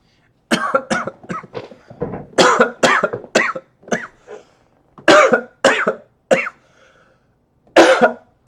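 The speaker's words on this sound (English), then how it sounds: "have had a little bit of a cough lately" A person coughs repeatedly in loud, close bursts, clustered in quick runs with short pauses between, alone without talk.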